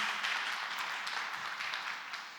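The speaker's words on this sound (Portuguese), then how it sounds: "A salva de palmas aí." A round of applause at a church group gathering, steady soft clapping from a small crowd heard at moderate distance, fading slightly toward the end.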